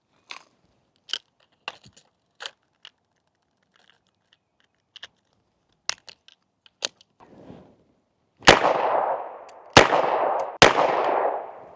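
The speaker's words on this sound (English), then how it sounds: "We're gonna do the quick combat reload" Quick combat reload of a Smith & Wesson 586 revolver with a Safariland speedloader: scattered light metallic clicks and taps, then three loud sharp gunshots in quick succession, close and alone with no talk.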